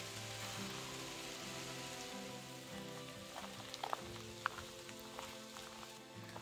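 Rain falls steadily on a hiking trail near a via ferrata at Hohe Wand, a faint, even hiss of drops with a few soft taps and footsteps close by.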